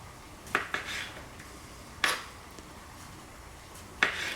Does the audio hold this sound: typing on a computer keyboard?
no